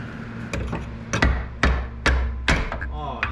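A hammer taps repeatedly on a nut while work is done on a truck, giving five or six sharp metallic knocks at a steady, unhurried pace, close and distinct over a low background hum.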